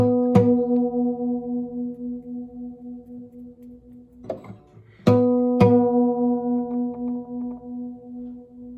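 Plucked, slightly detuned guitar strings ring together with a slow, pulsing wah-wah beat as they fade, then are plucked again and keep wavering.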